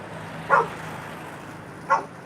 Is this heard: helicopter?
no